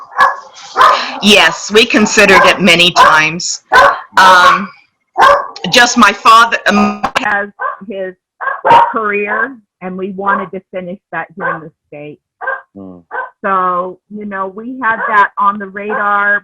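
A dog barks at the mailman at the door, sharp yips and barks scattered through steady close conversation between people.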